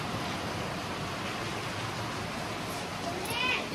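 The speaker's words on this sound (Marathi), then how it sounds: "खूप आवाज यायला पाण्याचा." Loud running water rushes steadily and close by in a home, a dense broadband wash with no pauses, joined near the end by a brief faint high tone.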